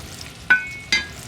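Bacon frying in a pan, its fat rendering, with a low steady sizzle broken by two sharp metallic clinks of a utensil against the pan, close and alone without talk.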